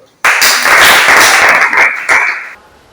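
Students in a classroom break into loud, close applause, a dense burst of clapping lasting about two seconds before tapering off.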